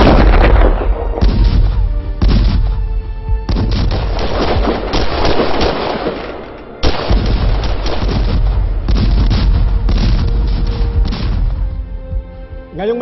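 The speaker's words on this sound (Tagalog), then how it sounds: "Tutok mga kanyon sa mga kalaban!" Cannon artillery fire in a battle scene from a period film set during the Philippine revolution, a barrage of loud, booming blasts in rapid succession with rumbling echoes, heavy and sustained throughout.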